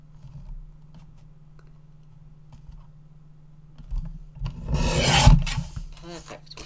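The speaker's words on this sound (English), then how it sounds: "And then cut corner." A card corner for a mini memory book is trimmed with a rasping, scraping cut that swells loudly near the end after a quiet stretch of faint handling noise.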